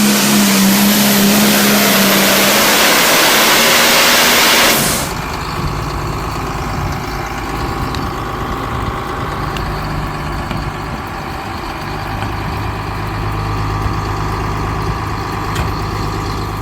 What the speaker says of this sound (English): You're watching the unstoppable force of John Deere Pro Stock tractor pulling roar to life.